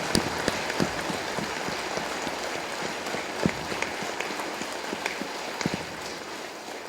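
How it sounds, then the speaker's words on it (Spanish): A church congregation applauds during a solemn Mass for the Cristo de la Exaltación, a steady, moderately distant patter of many hands clapping with occasional sharper claps standing out. "Un aplauso para el Cristo de la Exaltación."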